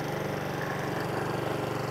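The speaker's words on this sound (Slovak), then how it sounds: "Ako vidíte, motor nám beží, ale čepele nie, čiže vieme sa presúvať." A Honda HRN 536 VY walk-behind lawn mower engine idles steadily with its blades disengaged, a continuous close, even, mid-pitched drone with a fast regular pulse and no voices.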